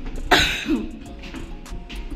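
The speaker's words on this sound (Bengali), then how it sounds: "কি কাশি হয়ে গেছে" One person lets out a single harsh cough or throat-clearing burst near the microphone, followed by quieter background murmur and faint room noise.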